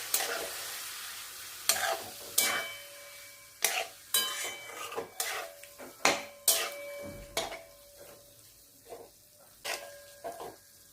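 Bottle gourd greens with poppy seed paste stirred in a pan, repeated sharp clinks and scrapes of a utensil against metal every second or so over a faint sizzle, close-up and alone.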